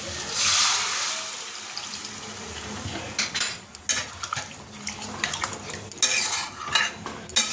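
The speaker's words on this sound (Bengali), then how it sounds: "মশলা কষানো হয়ে গেছে, এবার জল দিয়ে দেবো।" Water poured into a pan of fried spice masala while cooking a potato curry, with a splashing rush followed by clinks and scrapes of a spoon against the metal pan, close and alone without speech.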